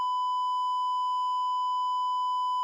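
A steady, pure electronic beep tone used as a sound effect on a podcast rings out alone at an even level for nearly three seconds, starting and stopping abruptly.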